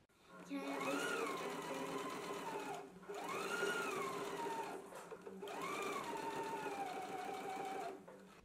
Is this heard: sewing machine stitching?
yes